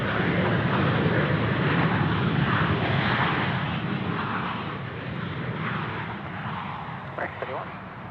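A jet airliner taxis at Sydney Airport, its engines giving a loud, steady broadband roar that eases slightly partway through, with faint voices underneath.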